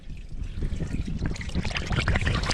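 A water-and-bait mix trickles out while a cut-out juice-container fishing trap is filled, a close, bubbly, gurgling flow that grows fuller and louder toward the end.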